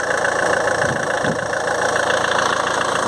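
A Ford Mondeo with a charging fault idles steadily at close range, a continuous even engine hum with a faint rhythmic knock and no speech.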